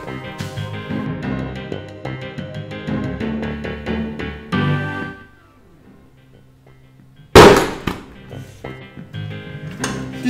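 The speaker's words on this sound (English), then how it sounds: "That was a major explosion right there." A balloon filled with hydrogen gas made from sodium hydroxide and aluminum is lit and explodes in one sudden, loud bang after background music fades to near silence.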